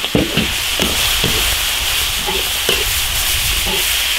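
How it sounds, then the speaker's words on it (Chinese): Cooking wine splashes into a hot iron wok while beef intestines are stir-fried, giving a loud steady sizzle and hiss broken by several sharp scrapes and knocks of the spatula. "料酒从锅边淋入"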